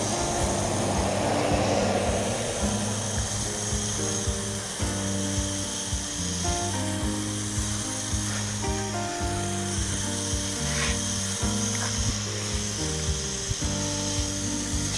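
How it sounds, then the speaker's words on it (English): A hose-end sprayer siphons liquid onto a turf park strip with a steady, close mechanical whine. Its tone shifts in pitch several times as siphoning starts and stops. "when I stop siphoning, you can actually hear the change in pitch"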